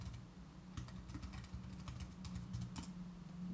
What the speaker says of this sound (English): So let me type this again.